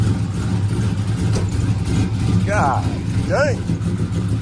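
Idling engine of a boxy Chevy with a freshly installed cam, a steady low rumble running throughout while people talk over it nearby and the tone holds fairly even.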